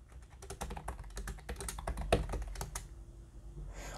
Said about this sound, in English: let me just try typing just to see how it feels